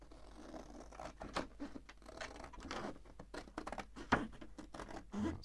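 Scissors snip through card along a score line for a Secret Service folio, a run of quiet crisp cuts and paper rustles close by, with one sharper snap near the end.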